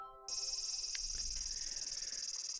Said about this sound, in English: Let's end the episode with the cicadas freaking being annoying in the background.